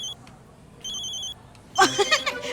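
A telephone rings in two short electronic bursts, followed by a clattering handling noise up close.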